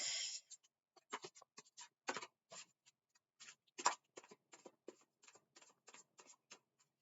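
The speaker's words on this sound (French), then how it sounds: "j'ai mon jeu que je vais mélanger" A deck of cards is shuffled by hand in a quiet room, a series of soft, brisk riffling and slapping bursts separated by short pauses, close and fairly faint.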